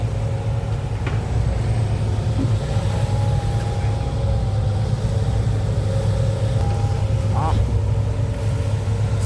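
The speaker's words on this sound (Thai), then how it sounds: "รถขุดขนาด 13ตันตีไปเลย" A Sumitomo SH130-6 13-ton excavator works nearby with a steady low diesel rumble and occasional metallic clanks, voices talking over it.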